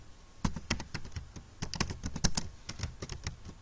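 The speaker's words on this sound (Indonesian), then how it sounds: "maka kita mengetik pada kotak penulisan Google" Keys clatter on a computer keyboard as a search query is typed into a Google search box, in quick irregular bursts of close, crisp taps with short pauses and no voices.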